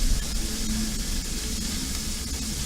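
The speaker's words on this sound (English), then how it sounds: "it's already boiling right now." A pot of water at a rolling boil for rotini pasta gives a steady broadband bubbling hiss, close and continuous throughout with no voices.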